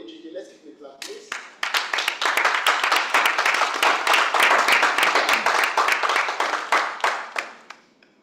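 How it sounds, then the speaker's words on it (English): Audience clapping at a Toastmasters humorous and table topics contest, a room of hands starting together, building to a steady close patter, then thinning and fading out. "Let's give it a clap, please"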